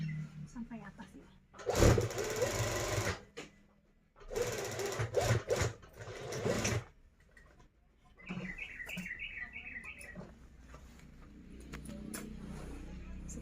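A sewing machine stitches a blouse in two loud mechanical runs of a few seconds each, followed by quieter rhythmic whirring; a voice speaks briefly between and around the stitching.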